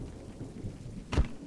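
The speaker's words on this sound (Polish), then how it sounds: "Ojejku, są pierony." Single low rumble of thunder rolls in over steady soft rain in a survival video game as the sky darkens, brief and moderately loud.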